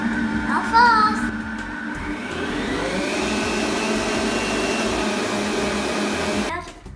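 An electric mixer whirs through cupcake batter, climbing in pitch as it speeds up to fast, then holds a loud, steady motor hum for several seconds before cutting off near the end.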